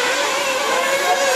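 A race car from a FEMCA Championship qualifying heat sweeps past with a steady, high-pitched engine whine that holds loud and close throughout, with no voices.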